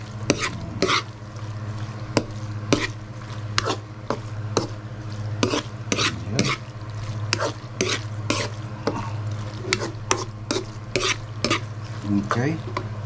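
Beef liver frying in a hot pan is stirred with a utensil, producing repeated sharp scrapes and clinks against the pan over a continuous sizzle, close and fairly loud, no speech.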